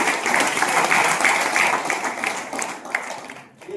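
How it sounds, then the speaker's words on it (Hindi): Audience clapping at an indoor business meeting, a short burst of applause that fades near the end. "ये देखिए ताली बजाएंगे।"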